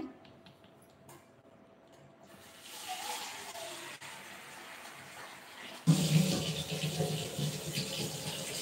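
Water runs and splashes steadily, growing louder partway through as the stream becomes fuller and closer.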